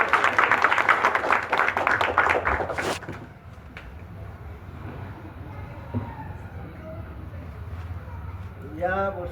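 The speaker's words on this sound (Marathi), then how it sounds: "गोरे सरांसाठी जोरदार टाळ्या झाल्या" An audience at a parenting seminar bursts into loud, dense clapping for a speaker; the applause lasts about three seconds, then drops away into a quieter room with a few faint knocks and some voices.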